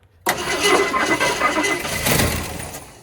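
A 1969 Ford F100 that sat for 19 years fires up abruptly after a brief quiet moment, its engine catching and running loud and rough nearby for a few seconds.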